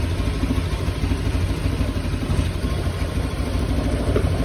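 A Honda Scoopy scooter with a sputtering engine fault, tested in a repair workshop, runs with its throttle opened. The engine drones steadily and loudly with a close, rough, clattery texture throughout.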